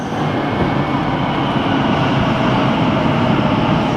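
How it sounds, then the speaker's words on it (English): A train rumbles steadily at a railway station on a London route near Liverpool Street, giving a loud, continuous roar with no pauses and no voices over it. "But there's a train here."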